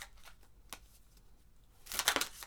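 Tarot cards being shuffled during a reading, with soft riffling flicks early on and then a louder, close burst of rapid shuffling near the end.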